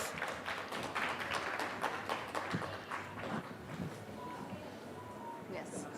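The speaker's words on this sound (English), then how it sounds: "A huge round of applause" Applause from a business summit audience for panelists being introduced, a steady wash of many hands clapping that holds for several seconds and then thins slightly.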